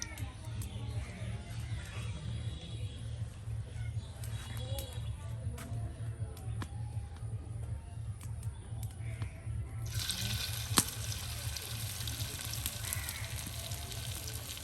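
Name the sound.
kanai leaf batter fritters deep-frying in hot oil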